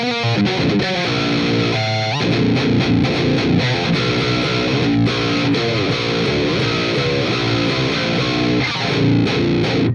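Heavily distorted electric guitar played through an STL ToneHub Friedman BE-style preset with overdrive engaged, a dense, loud, continuous riff of chugging palm-muted notes and chords with no pauses and no talking.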